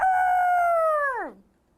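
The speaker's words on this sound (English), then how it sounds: "we heard the crow of a rooster" A rooster gives one loud, close crow, a sustained strained call that slides down in pitch at the end and then cuts to silence.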